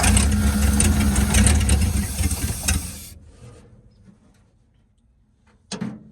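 A 1949 Ford F-5 truck's old flathead V8, low on compression, runs loud and rough for about three seconds, then dies away into near silence before one short burst of noise at the end.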